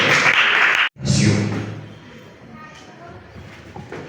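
A church congregation applauding, a loud burst of clapping that breaks off, surges again, then fades into murmuring and shuffling under voices.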